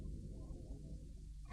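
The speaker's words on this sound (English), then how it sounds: "And that's the sound of a rear seatbelt being fastened." A rear seatbelt buckle latching in a car, heard as one short, sharp click right at the end after a stretch of quiet low rumble, with no talking.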